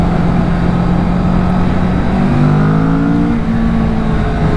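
A 2024 Kawasaki Vulcan S cruiser motorcycle engine rumbles steadily up close, its pitch rising as it revs partway through, loud and continuous with no talking.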